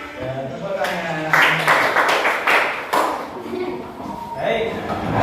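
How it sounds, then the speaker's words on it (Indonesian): A group, likely a class of students, claps for a few seconds after a teacher's rhythmic action-song warm-up, the clapping loud and close and mixed with voices. "Ya, tepuk tangan."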